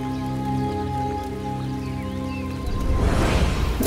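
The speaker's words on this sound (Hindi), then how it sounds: "अचानक बारिश शुरू हो गई" A sudden downpour of rain bursts in after a stretch of sustained tonal music, its loud hissing patter swelling over the last second or so.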